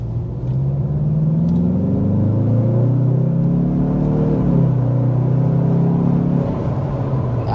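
Turbocharged 2024 Mazda CX-5 or CX-30 engine pulls hard under acceleration, a loud, steady cabin drone whose pitch rises and sweeps through the run, heard alone with no talking.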